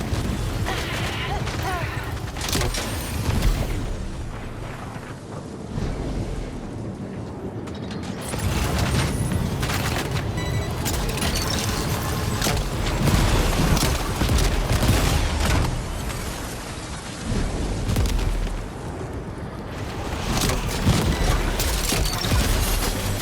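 Sustained bursts of gunfire and booming explosions in the video game Death Stranding 2, loud and dense, with rattling mechanical clatter and a voice talking over the action.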